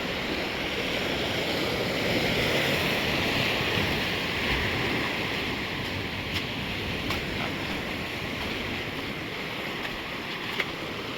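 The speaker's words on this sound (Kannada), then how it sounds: "ಅಲೆಗಳು ಹೆಂಗೆ ಬರತ್ತವನ್ನೆಲ್ಲ" Ocean waves roll onto Agonda Beach in Goa as a steady, loud wash of surf that fills the whole stretch, mixed with wind rumbling on the microphone.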